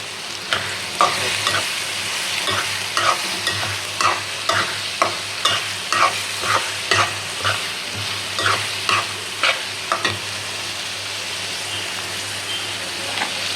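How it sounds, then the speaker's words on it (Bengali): Whole garam masala, bay leaves and cumin crackle and sizzle in hot oil in a pot while a utensil scrapes in a regular stirring rhythm, close and fairly loud. "গোটা গরম মশলা দিয়ে দিলাম, সাথে দিলে তেজপাতা দিয়ে দিলাম, জিরা। এটা আমি একটু ভাজা ভাজা করে নিই"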